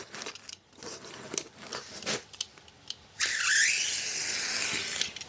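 Acoustic insulation material for a Tesla Model 3 is cut with scattered crisp crunches and snaps, followed by a sustained, loud tearing hiss close by.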